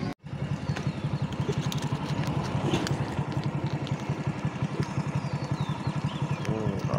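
A motorbike engine runs steadily while riding near Dharan, the bike said to lack pulling power, its close, even throbbing drone continuing for the whole stretch without speech.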